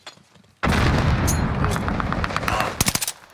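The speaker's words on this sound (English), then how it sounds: "Frag incoming. Tossing frag." A frag grenade blast in Call of Duty Warzone, a sudden loud boom followed by dense rumbling and crackling gunfire, ending in a quick run of sharp shots.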